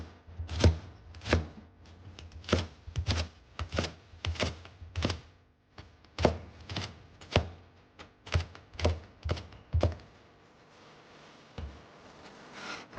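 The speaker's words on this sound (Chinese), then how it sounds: "准备4个小米辣，将小米辣切成圈。" A knife chops small red chillies into rings on a cutting board, with about twenty crisp, close thunks coming in quick uneven runs and short pauses between them, with no voices.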